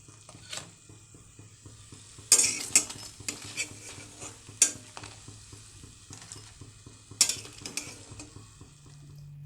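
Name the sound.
jatilau pakoras frying in a kadai, lifted out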